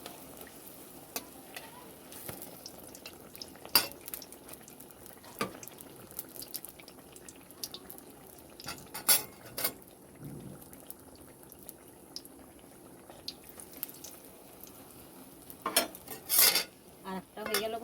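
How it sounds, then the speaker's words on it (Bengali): Jackfruit malpua batter frying in oil in a kadai, a quiet bubbling sizzle broken by scattered sharp clinks and scrapes of a spatula against the pan. "এক এক করে আমি সবকটাই এরকম করে ভেজে নেব"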